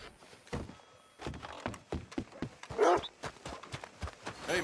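Horse hooves clip-clop with a few duller thunks in Red Dead Redemption II, an irregular run of moderately loud, close footfalls with no talk.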